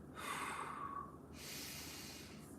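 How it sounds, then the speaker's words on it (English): Slow, deep breaths taken during a stretching routine: one long audible inhale followed by a long soft exhale, close and fairly quiet, with no talking. "And let's breathe into that. 3 big breaths."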